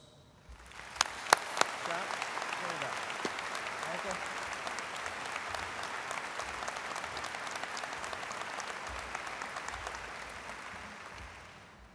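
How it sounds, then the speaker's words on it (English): An audience at a high school graduation breaks into sustained applause that starts with a few sharp claps, builds quickly and holds as a steady, fairly distant wash of clapping for several seconds before easing slightly. "Please join me in applauding the dedication and efforts of these 2 valuable community"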